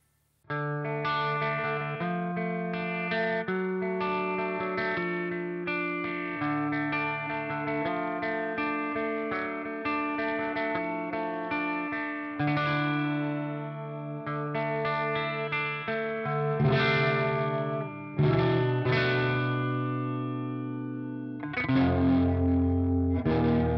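Distorted electric guitar through an HX Stomp playing sustained chords with a swirling harmonic flanger effect and light spring reverb, ringing steadily with a few changes near the end.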